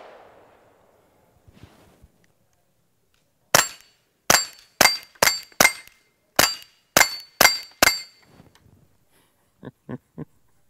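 Bolt-action rifle fitted with a Dead Air Mask HD silencer, firing outdoors: about ten sharp suppressed shots spaced roughly half a second apart, then a short pause and three fainter quick cracks, with quiet between.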